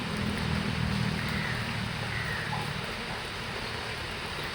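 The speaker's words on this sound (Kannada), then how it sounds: "ಈಗ ಸ್ವಲ್ಪ ಸ್ಟಾರ್ಟ್ ಆಯಿತು ಮಳೆ ಬರೋಕ್ಕೆ. ಮಳೆ ಬರ್ತಾ ಉಂಟು." Light rain falling steadily outdoors, a soft continuous hiss with low rumble throughout, fairly even in level and without voices.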